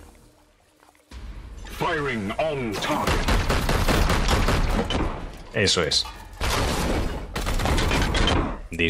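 Rapid bursts of gunfire in Warhammer 40K: Chaos Gate – Daemonhunters crackle over sustained loud background noise, with someone speaking briefly in Spanish partway through.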